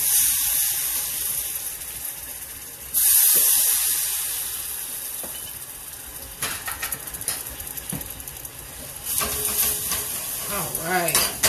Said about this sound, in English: I just add a little teaspoon, excuse me, of apple juice in the bottom of my pan.